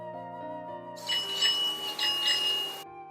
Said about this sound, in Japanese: 上手にベルを鳴らすことができました